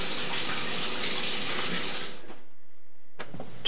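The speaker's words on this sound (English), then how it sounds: "All you really have to do is cover the carcass with water." Tap water pours over a chicken carcass to make stock, a steady, full gushing stream for about two seconds that cuts off, then briefly resumes.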